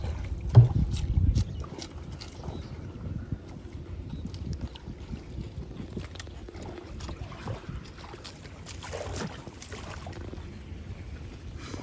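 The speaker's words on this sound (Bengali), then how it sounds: "ওই যে সামনে শাপলা, সুন্দর করে নৌকাটা চালা।" A small wooden boat rowed through water among water lilies in a rural Bangladeshi setting, with soft splashes and oar strokes under wind noise and a sharp knock near the start.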